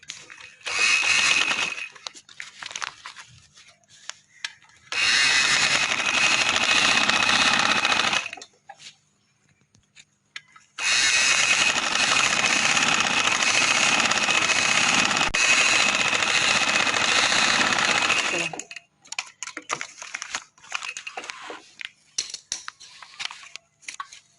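A sewing machine stitches a trouser leg seam in two loud, steady whirring bursts of a few seconds each. Quiet gaps fall between them, filled with small handling clicks and rustles of fabric.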